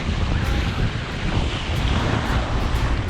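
Steady roar of surf and crashing waves on Pendine beach mixed with gusty wind buffeting the microphone, continuous and loud throughout.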